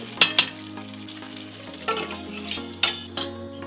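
Pumpkin leaf and stem curry with bori sizzles in a pan under a low steady hiss, while a spoon scrapes and stirs in several sharp, close strokes; no one speaks.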